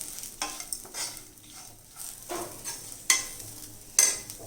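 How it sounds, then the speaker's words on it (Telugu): A spoon scrapes and stirs broad beans with spices in a frying pan, repeated rhythmic scraping strokes over a faint sizzle, with a couple of sharper metallic clinks near the end. "ఇవన్నీ వేసుకొని బాగా కలుపుకొని"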